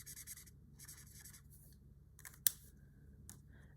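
Tombow watercolor brush marker dragged across paper in short, scratchy strokes, faint and close, with a few quiet pauses and one sharp tap partway through.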